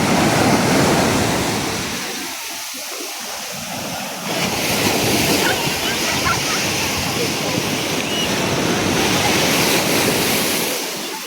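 Loud, continuous ocean surf roars and washes in at a surf spot in La Union, Philippines, with wind buffeting the microphone throughout and breaking waves swelling and easing.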